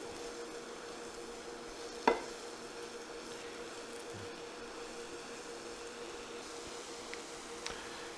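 Shallots and mushrooms, salted to help them sweat, hiss in a pan with a faint steady sizzle, broken by an occasional utensil tap.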